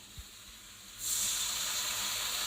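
Water is poured into a hot pan of vegetable khichuri, setting off a sudden loud hiss of steam and sizzle about a second in that holds steady to the end.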